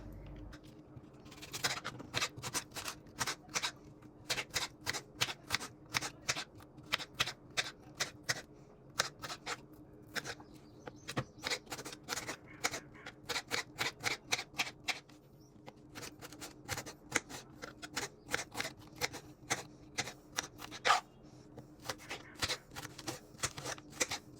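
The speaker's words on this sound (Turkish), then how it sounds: "öncelikle soğanımı küp küp doğruyorum" A knife dices onions into small cubes on a cutting board, making rapid, crisp chopping taps in steady rhythmic bursts with short pauses, close and clear throughout.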